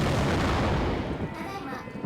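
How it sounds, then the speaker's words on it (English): Heavy, rumbling explosion blast from the video game Root Double, set at a research laboratory; loud and dense from the start, then thinning slightly as it decays over about two seconds. "An explosion occurred."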